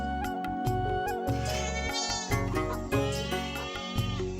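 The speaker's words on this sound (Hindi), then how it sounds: "बाहर बकरियों की मिमियाहट और पास ही सेठ हरिराम की बैलगाड़ी की चरमराहट सुनाई दे रही थी।" Goats bleat repeatedly outside a small mud-walled village house, the calls layered over a steady mix of background sound at moderate loudness with no speech.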